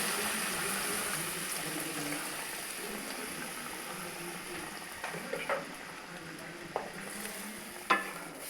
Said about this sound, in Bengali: আলুটা সিদ্ধ হওয়া অবধি রেখে এবার গরম জল দিয়ে দিচ্ছি।